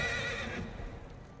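A horse whinnies loudly and close in the video game Elder Scrolls Online, one shrill neigh that trails off after about half a second into low rumbling and faint hoof clatter.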